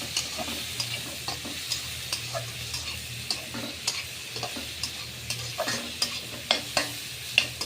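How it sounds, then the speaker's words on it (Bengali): A spoon stirs and scrapes through turmeric, onion and shrimp sizzling in a pan, rhythmic clicks over a soft frying hiss, nearby and fairly quiet. "এখন ভালোভাবে নেড়ে চেড়ে দিব।"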